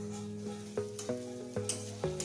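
Chowmein stir-fries in a pan with a soft, steady sizzle, punctuated by a series of sharp, close clinks and scrapes from a utensil roughly every half second.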